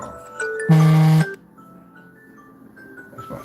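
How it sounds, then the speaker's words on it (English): A phone alarm going off, a short loud electronic tone burst after softer melodic beeps, then faint chiming notes continuing quietly, with no talk over it. "Oh, that's my alarm going off."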